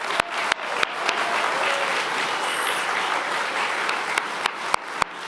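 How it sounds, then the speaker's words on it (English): Sustained applause from a gathered church fiesta audience thanking student servers, a dense steady roar of many hands with a few sharp close claps standing out at the start and end. "Could you guys give them a round of applause?"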